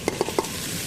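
Onion, ginger and chili tempering in ghee for wheat rava pongal, sizzling faintly while being stirred, with a few soft stirring scrapes standing out over a steady low hiss.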